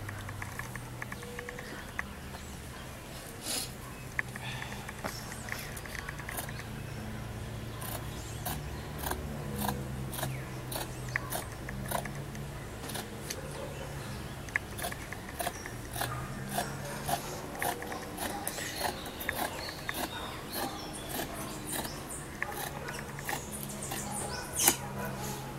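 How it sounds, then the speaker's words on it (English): Dull scissors cutting through fabric for a pants pattern, repeated crisp snips and rustling, closely heard over a long stretch in a quiet room with irregular rhythm. "My scissors is not cutting as it should."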